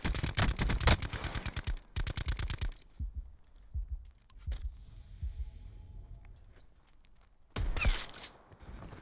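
Rapid gunfire from the Sturgeon gun in the Firestorm battle royale game, heard as a loud burst of fast repeated shots, then quieter thuds, then another sharp burst near the end.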